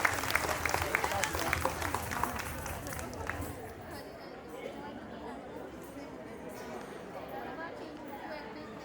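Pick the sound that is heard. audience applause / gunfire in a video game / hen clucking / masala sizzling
audience applause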